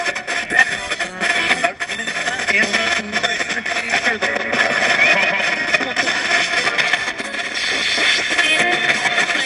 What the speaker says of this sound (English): Now I'm going to add some echo.